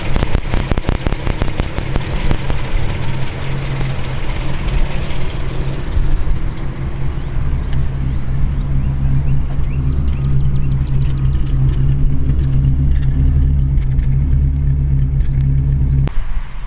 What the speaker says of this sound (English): it's only idling about 500-600 RPMs, which is about right.